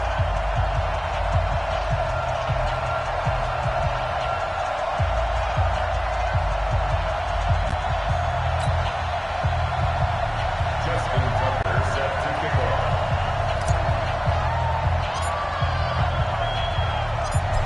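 Stadium crowd in an EA Sports NFL video game, New England Patriots against New York Jets, roars as a steady, dense wall of cheering with occasional whoops, continuous and fairly loud throughout.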